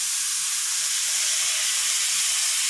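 Vegetables including carrot, beans and peas sauté in hot oil for a biryani, giving a steady, even hiss with no talking over it.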